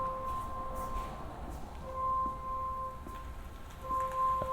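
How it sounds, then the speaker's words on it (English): Reverse warning tone from a 2022 Hyundai Santa Fe PHEV, a faint, steady electronic beep that repeats in short pulses over a quiet background hiss. "That's the sound letting you know that it is in reverse."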